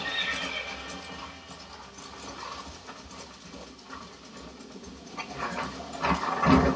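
Horse in the video game Red Dead Redemption, heard in rain. It whinnies and its hooves clip-clop at moderate volume, with a sharper neigh at the end.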